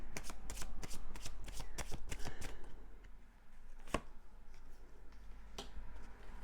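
Tarot cards shuffled by hand for a love reading: a quick series of crisp riffles and slaps at first, then sparser taps and one sharp snap over a low steady hum, close up with no voice.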